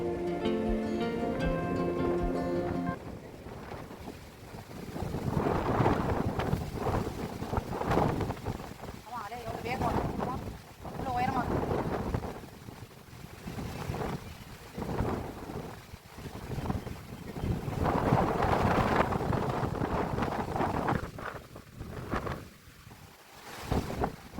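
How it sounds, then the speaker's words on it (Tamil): Strong coastal wind beside the Arabian Sea roars and gusts across the microphone, rising and falling in loud buffeting waves throughout, with a brief musical tone at the start. "எப்படி காற்றடிக்குதுன்னு மட்டும் பாருங்களேன். வெளியிலே வர முடியல, அந்த அளவுக்கு காற்று."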